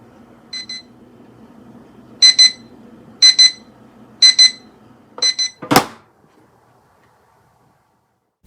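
Rechargeable digital kitchen timer beeping in five short bursts of rapid pips, loud and close, followed by a sharp click and then silence.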